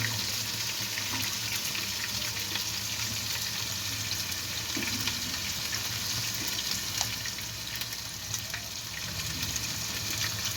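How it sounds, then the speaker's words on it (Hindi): Spaghetti boiling in a pot of water on the stove gives a steady, dense bubbling and hissing wash that holds evenly throughout, with faint clinks scattered over it. "यहाँ पे स्पैगेटी हो रही है हमारी बॉयल"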